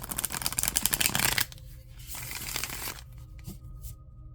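A travel-size tarot deck is riffled and bridged in a rapid burst of crisp card flutters, then a few quieter shuffling slides and taps follow at close range.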